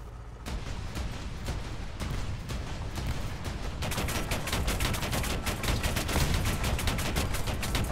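Rapid, sustained gunfire from War Thunder tanks, the rank 2 tank's guns booming and rattling in a dense, continuous barrage that grows busier and louder partway through, with no voices over it.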